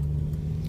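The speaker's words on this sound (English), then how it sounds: "These cars are driving so slow." Passing cars heard from inside another car, a steady low rumble with a strong, even engine hum and no distinct pass-by peaks.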